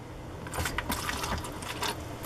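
Water gushing in bursts from a foot-pumped sink tap on a houseboat, splashing and running for about two seconds, close and fairly loud.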